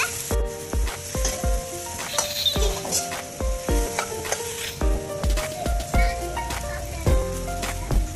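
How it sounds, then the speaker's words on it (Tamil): Mixed vegetables fry in a pan for Mexican fried rice, a continuous sizzle broken by rhythmic scraping and knocking strokes of a spatula, close and fairly loud, with steady music playing underneath. "இது நல்லா ஃப்ரை பண்ணிக்கோங்க. நல்லா மிக்ஸ் பண்ணிக்கோங்க."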